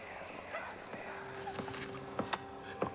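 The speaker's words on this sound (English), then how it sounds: "Is that why we're hearing the dogs right now?" Dogs whimpering in a horror video game, faint and somewhat distant, with thin whines and a few sharper yips and knocks beneath a quiet voice.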